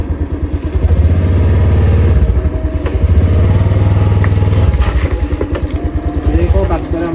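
A rented, clutchless motorcycle runs close by, its engine throbbing in a steady low putter under people talking nearby.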